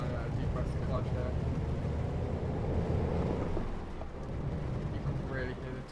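Truck engine in Euro Truck Simulator 2 with the clutch pressed in, a steady, loud low drone and rumble that continues unbroken throughout.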